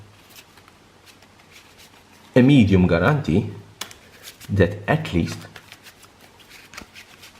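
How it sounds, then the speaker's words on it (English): A Magic: The Gathering card deck is shuffled in a rapid riffling patter that runs steadily throughout, close and crisp, while someone talks over part of it. "If you shuffle your opponent's deck,"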